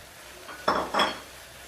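Bone-in beef, half a kilo, gets stirred in a cooking pot for a Kozhikode-style pepper beef roast, with two quick scraping, clattering strokes of a spoon against the pot amid quiet background.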